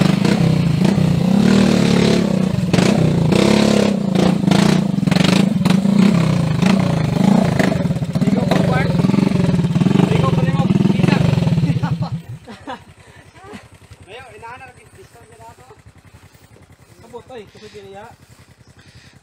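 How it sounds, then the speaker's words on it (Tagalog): A habal-habal motorcycle taxi rides along a rough rural road in Negros Oriental, its engine droning loudly with clattering and scraping for about twelve seconds before cutting off abruptly, leaving people talking in a quiet space. "So mao ni ang among habal-habal"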